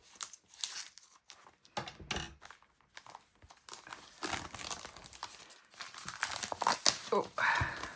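A Stampin' Up! June Paper Pumpkin craft kit being pulled from its box, with close, irregular bursts of crinkling and rustling packaging and occasional tearing-like scrunches coming in uneven waves.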